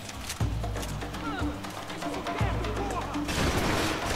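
Gunfire in the video game Max Payne 3: a few sharp shots and bursts crack out against a busy game background, with someone talking over parts of it.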